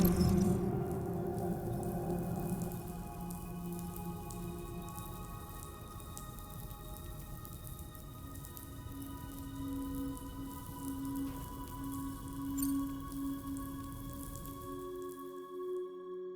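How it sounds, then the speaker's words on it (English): Rain falls steadily in the game Death Stranding 2: On the Beach, a soft constant patter mixed with low tonal hums and a faint rise in intensity partway through. "Those raindrops are falling on my head."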